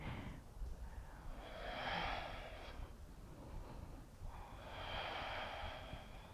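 Slow, deep breaths during an ab-focused yoga flow: two long, soft breaths a few seconds apart, close and quiet with no talking.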